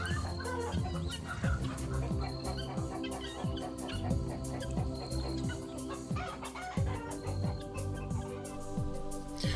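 Vulturine guineafowl on safari in Kenya call in a dense, rhythmic chorus of repeated clucking and cackling notes, loud and continuous, several birds overlapping close by.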